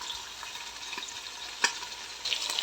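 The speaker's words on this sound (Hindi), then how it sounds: "मैंने गोश्त डाल दिया है, इसको भूनूंगी थोड़ी देर" Meat sizzles steadily in a hot pan for chicken pulao, a continuous close frying hiss with a sharp clink or stir near the middle and busier crackling toward the end.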